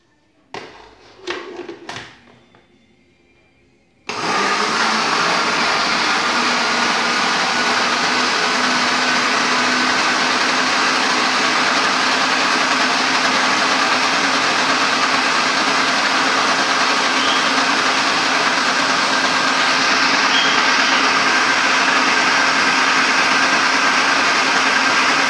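An electric mixer beats eggs, sugar, oil and butter for broa batter with a loud, steady whirring drone that runs continuously for over twenty seconds. A few brief knocks come just before it starts.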